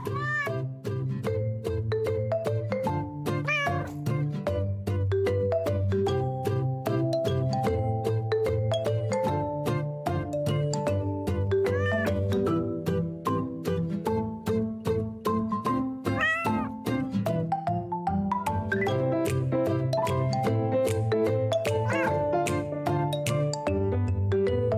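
A kitten meows again and again under loud, steady music, with its high cries scattered through the whole stretch.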